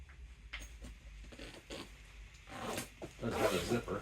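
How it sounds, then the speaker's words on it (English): A zipper is drawn along an overstuffed underseat backpack in several short rasping pulls, tugging harder and louder toward the end. "Does have a zipper. See if we'll even be able to zip this up."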